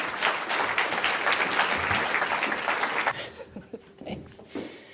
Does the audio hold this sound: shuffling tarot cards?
no